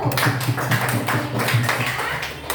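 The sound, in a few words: classroom applause for a group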